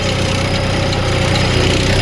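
A tractor engine drones steadily as it works through thick mud, a loud, even low rumble with a faint knocking pulse and no break.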